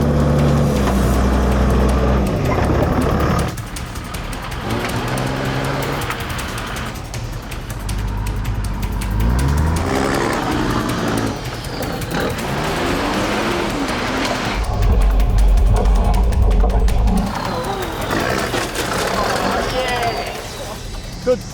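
A 4WD engine revs hard under throttle while climbing a rocky track, low rumbling surges rising and falling over about twenty seconds, with people talking over it.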